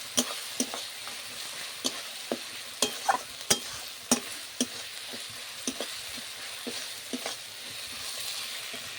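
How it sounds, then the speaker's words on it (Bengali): A spice paste with ginger paste frying in oil for a Bengali desi chicken and potato kosha, with a low steady sizzle broken by regular sharp clicks of stirring against the pan. "এই সময় দিয়ে দেব আদা বাটা। ভালো করে মশলাটা কষাতে হবে।"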